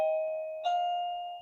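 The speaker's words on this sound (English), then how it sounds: "the doorbell went when I was trying to make a video" A doorbell chimes in two tones, the first ringing out and a second strike about halfway through, both leaving a clear sustained ring that fades slowly in a quiet room.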